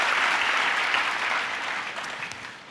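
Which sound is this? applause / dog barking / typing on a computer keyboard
applause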